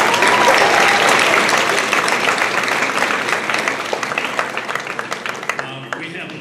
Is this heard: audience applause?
yes